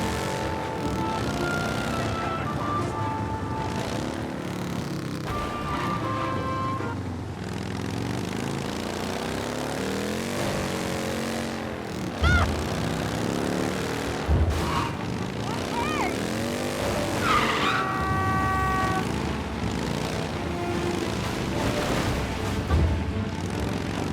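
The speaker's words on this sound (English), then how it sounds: "That motorcycle is out of control." An out-of-control motorcycle in Mafia Definitive Edition: a buzzing engine whines and wavers up and down in pitch for a long stretch, with scattered thumps and people talking over it.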